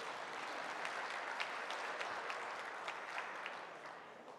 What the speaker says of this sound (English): Big round of applause to all our winners here today.